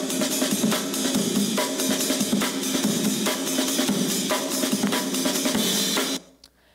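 A drum break, a short funk drum solo: busy, loud kit pattern of snare hits and cymbal wash, steady and dense for about six seconds before cutting off abruptly.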